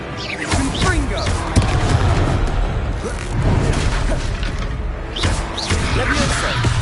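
Repeated Confringo blasting-spell explosions in the Hogwarts Legacy video game thud and crash in a dense, continuous barrage, with several heavy booms and whooshes layered under shouting voices.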